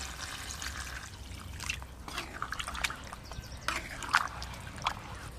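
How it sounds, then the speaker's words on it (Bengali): Water poured into a pot of lightly spiced goat mutton curry, a trickling, splashing flow with a few sharper drips, fairly close and moderately loud over a low kitchen hum. "এবার জল দিয়ে দেব জল"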